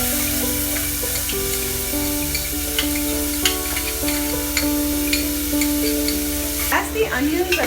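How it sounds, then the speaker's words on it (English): Two medium onions, already chopped, hit hot oil in a pan and sizzle loudly and steadily, with stirring scrapes and clinks close by and a brief clatter near the end. "Now the onions which I have already chopped and kept, we just put them in the oil."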